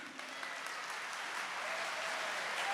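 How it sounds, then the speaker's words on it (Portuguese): A church congregation applauds at a distance, a steady, moderately faint wash of clapping that continues for the whole stretch with no break. "Pode aplaudir, pode fazer barulho."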